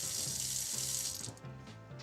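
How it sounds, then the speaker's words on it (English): Cold water runs from a kitchen tap over drained pasta, a close steady splashing stream that drops in level partway through and then carries on. "The reason you run cold water over pasta is because you don't want it to continue to cook."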